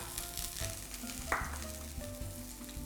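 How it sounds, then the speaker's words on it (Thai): Steady crackling sizzle of shallots frying in hot oil in a pan, close and continuous, with a brief sharper hiss midway. "ผมตั้งกระทะให้ร้อนใส่น้ำมันลงไป และก็ใส่หอมแดงครับ"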